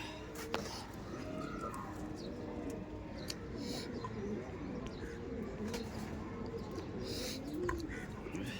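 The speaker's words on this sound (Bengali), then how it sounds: "এটা হচ্ছে নর পায়রা" A male Malbayi tournament pigeon coos faintly amid constant noisy background hum and bustle, with soft low calls scattered throughout.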